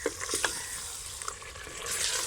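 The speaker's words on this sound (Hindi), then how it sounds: "अब इसको 2 से 3 मिनट इसकी मैं भुनाई करूँगी" Chopped chilies fry and get stirred in a pan for chicken sobat, a soft continuous sizzle with faint scraping of the spoon, fairly quiet and close.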